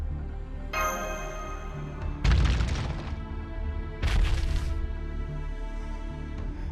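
Two heavy, booming thuds of characters dropping into a pitfall trap in the video game Fate/Grand Order, each a loud crash with a brief rumbling tail, following a steady tone.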